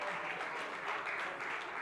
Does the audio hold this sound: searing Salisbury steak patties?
no